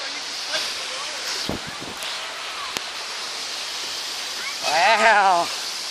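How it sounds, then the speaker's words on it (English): Cove Springs waterfall rushing as a steady broadband wash throughout, with a brief knock near the middle and a voice rising at the end. "Let's go over there to the actual waterfall"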